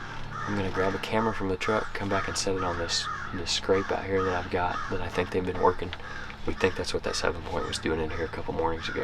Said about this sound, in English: we got a few crows. You guys can hear them in the background